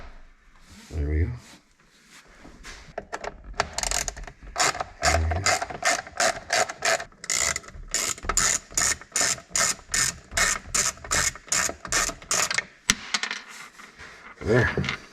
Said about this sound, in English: grab a T20 and unscrew 3 screws.